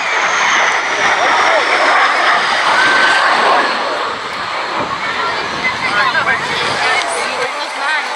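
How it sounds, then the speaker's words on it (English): A jet-powered Gloster Meteor at the Cleethorpes air show roars past in a loud, broad, sustained rush that slowly fades, with crowd chatter and a commentator's voice underneath. "The high speed of the jet-powered Meteor made it ideal for that kind of work."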